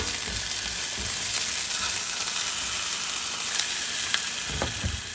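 Jalapenos and a single onion fry in a hot pan, giving a steady, close sizzle with crackles and occasional stirring scrapes running through the whole stretch.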